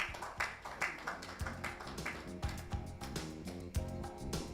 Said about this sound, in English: Let's give her a round of applause as she comes to take her award.